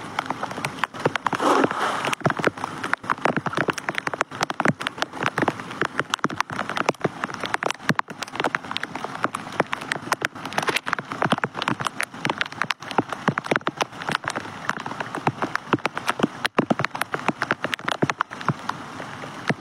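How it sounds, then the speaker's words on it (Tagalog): Heavy rain pours steadily around a spot beneath a bridge, a dense, continuous hiss of drops spattering nearby surfaces with no pause throughout. "Lakas na yung ulan."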